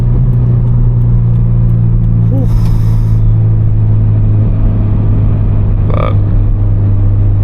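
A Scion FR-S with a Berk muffler delete drones loud and low from inside the cabin while driving, its exhaust holding a steady deep hum with slight shifts in pitch, and a voice briefly speaking.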